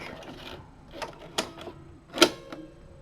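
A disk pushed into a floppy drive attached to a knitting machine, a few small plastic clicks and one sharper clack near the end, close and quiet with no talking.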